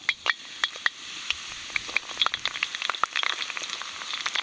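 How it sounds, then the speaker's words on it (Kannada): Roasted pork sizzles in a hot pan with curry leaves while a utensil stirs and scrapes, giving sharp intermittent clicks over a constant frying hiss. "ಸುಟ್ಕೊಂಡಿರೋ ಹಂದಿ ಬಾಡ್ನ ಒಂದ್ಸತ ಒಗ್ಗರಣೆ ಹಾಕೋಬಿಡೋಣ"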